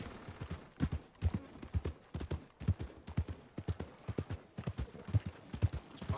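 Horse hooves clip-clop in a steady, even trotting rhythm in Red Dead Redemption 2, close and fairly loud, with no voices over the footfalls.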